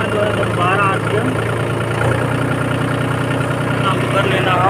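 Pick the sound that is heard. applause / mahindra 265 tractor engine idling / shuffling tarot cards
mahindra 265 tractor engine idling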